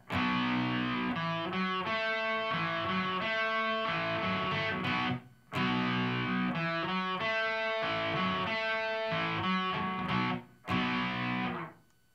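Distorted electric guitar plays a riff slowly, then returns to a ringing power chord, loud sustained notes in several phrases separated by brief pauses, with no voice.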